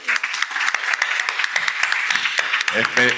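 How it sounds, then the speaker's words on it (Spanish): Brief burst of audience applause at a nanoparticle lecture, welcoming a guest from Puerto Rico's House of Representatives. The clapping is close and fairly dense, with a voice starting to speak just as it ends. "Así que un aplauso para él que está con nosotros."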